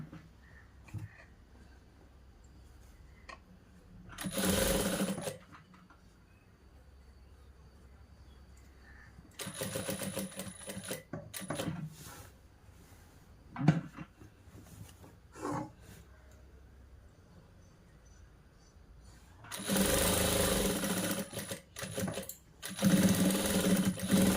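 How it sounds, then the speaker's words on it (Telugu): Sewing machine stitching the pocket onto a boys' school uniform shirt: several short bursts of rapid stitching, close and moderately loud, separated by long quiet pauses. "డైరెక్ట్ ఇదే విధంగా మలుసుకుంటూ కుట్టు వేసుకుంటూ రండి"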